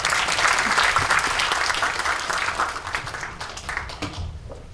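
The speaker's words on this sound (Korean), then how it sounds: "큰 박수로 환영해 주시기 바랍니다." Audience applause welcomes the SK Telecom media business division head, Kim Jong-ho, onto the stage at a developer forum keynote. Steady, dense clapping from a large crowd fills the space, then thins and fades toward the end.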